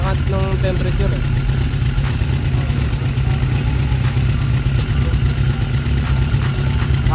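A Suzuki Impulse 400 motorcycle with aftermarket carburetor floats idles while its cold engine warms up, giving a steady, loud, low rumble with a constant throb. Someone talks over the engine.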